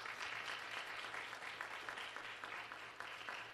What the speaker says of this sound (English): Let us give this great mayor, of course, another round of applause.